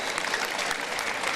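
A brief, steady burst of crowd clapping for Kalpesh at a yoga session, dense and even, without talk.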